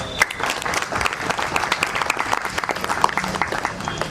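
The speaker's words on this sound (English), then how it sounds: "a huge round of applause for that" Audience applause greets the first SHE shuttle in Genome Valley, launched by SCSC and Cyberabad Police: a crowd claps steadily and fairly close for about four seconds, a dense patter of many hands with no voices over it.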